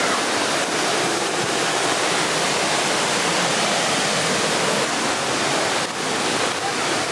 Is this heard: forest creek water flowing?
yes